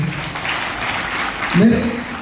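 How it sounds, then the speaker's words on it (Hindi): Attendees at a business achievers event clap for the honourees, a brief, full burst of applause from a crowd with voices rising underneath toward the end. "जोरदार तालियां होनी चाहिए सभी के लिए।"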